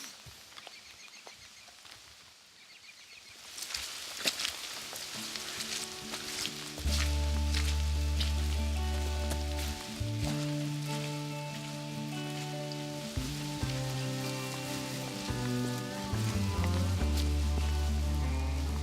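Steady rain hisses across the ground during a Montana archery deer hunt, a broad wet patter that is faint at first and then sits beneath loud, sustained music for most of the stretch.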